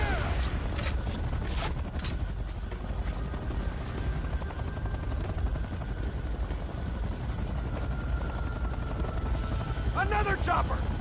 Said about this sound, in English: Another chopper! Take it out!